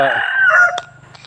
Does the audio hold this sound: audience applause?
no